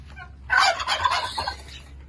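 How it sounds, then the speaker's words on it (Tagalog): A turkey on a turkey farm lets out a loud, rapid, rattling gobble close by, followed by a few quieter trailing gobbles. "Yan yung mga pabo."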